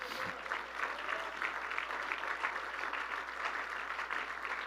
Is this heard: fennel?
no